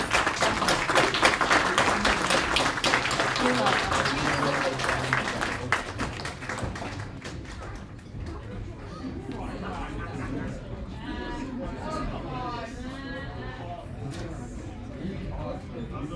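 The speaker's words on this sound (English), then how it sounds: "can we also take a minute to take a round of applause for Paul Enkin" An audience at a new media capstone presentation breaks into loud, dense applause lasting about eight seconds, then the clapping fades out and people talk and chatter nearby.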